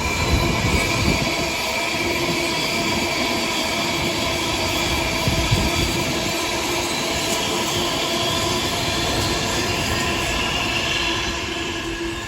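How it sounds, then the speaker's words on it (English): An Avanti Class 390 high-speed tilting train thunders past nearby on the West Coast Main Line, a sustained loud rumble with humming motors and wheel noise, holding steady for several seconds before easing off. "Another Avanti Class 390 heads on the down fast."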